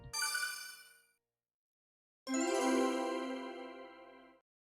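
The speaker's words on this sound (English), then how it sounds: "this is the sound of like getting something" A bright chiming jingle plays for an item pickup in an Idea Factory/Compile Heart video game: two separate bursts of ringing tones with a short gap between them, the second longer, with the chimes decaying slowly.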